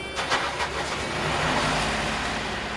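A narrowboat engine starting up, a loud, rough, close mechanical roar that catches after a few short bursts and settles into a steady throbbing run.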